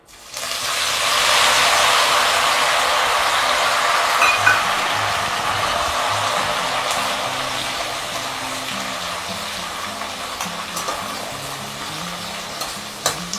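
Finely chopped green coriander leaves fry in hot oil over low to medium flame for crispy chivda, a steady loud sizzle that bursts up at the start and slowly settles, with light stirring and no talk.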